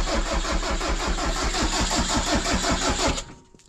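An engine cranks on oil in freezing 0 °C weather, a loud, steady, rapid starter chugging with rhythmic pulses for about three seconds that then cuts out, leaving a quiet tail.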